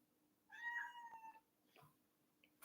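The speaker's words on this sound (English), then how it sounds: "Over here, kitty. Come on the show." A cat gives one clear, drawn-out meow nearby in a quiet room, followed by a shorter, softer chirp.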